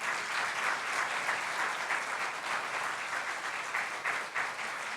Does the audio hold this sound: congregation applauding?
yes